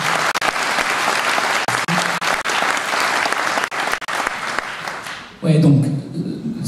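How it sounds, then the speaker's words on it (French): Sustained audience applause at an evening celebration of a publishing house's twentieth anniversary in Chamonix, loud dense clapping filling the room before fading and giving way to a voice speaking. "je pense qu'on peut d'abord commencer par applaudir Charlie, parce qu'il a fait un travail inouï"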